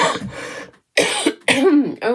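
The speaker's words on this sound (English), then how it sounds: "maybe next week this silly cough will be gone" Several harsh coughing bursts from a woman with a lingering, irritating cough, close and loud, separated by short silent gaps, with some throat clearing mixed in.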